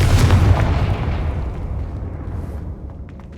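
A Confringo blasting spell explodes in Hogwarts Legacy: one loud, booming burst at the start that rolls away and fades into a long, rumbling tail, with no talking.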